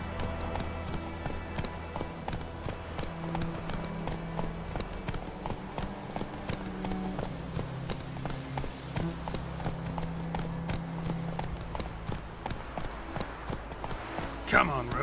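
A horse trots along in The Witcher 3, its hooves clip-clopping in a quick steady rhythm under game music, while a voice speaks over the top.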